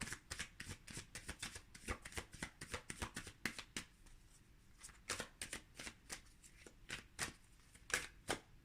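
Tarot cards riffled and shuffled by hand in a steady run of quick snapping bursts, close and fairly quiet, with no voices.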